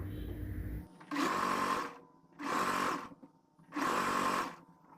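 A sewing machine stitches a half-inch seam allowance along the folded edge of a ready-to-wear saree, running in three steady whirring bursts separated by short pauses, close and fairly loud with no talk.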